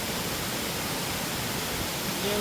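Steady broadband rushing roar of an unknown waterfall heard from a viewpoint nearby, a constant even wash of water noise with no pauses.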